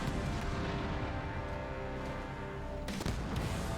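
Tanks fire in the strategy game Halo Wars 2 over a dense, constant rumble of battle, with a heavy boom breaking through near the end.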